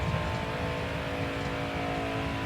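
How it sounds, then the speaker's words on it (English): In-cab engine drone of a NASCAR Heat 4 video game truck, a steady low rumble with a humming tone and faint rattling as it runs over bumps, continuous and fairly quiet. "Got the shake, rattles, and roll sounds of hitting all the bumps."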